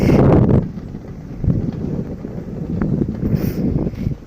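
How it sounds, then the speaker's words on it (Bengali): Strong, cold wind blowing along a foggy village river bank in Bangladesh, buffeting the microphone in heavy low gusts that surge, dip briefly, then rise again. "এই বাতাস আর এই কুয়াশা, এত ঠান্ডা"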